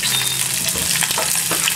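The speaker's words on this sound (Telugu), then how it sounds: "పచ్చిమిర్చి ఏగుతున్నాయి కదా" Green chillies frying in a pan give a continuous close sizzle, with a few soft stirring scrapes and no voices.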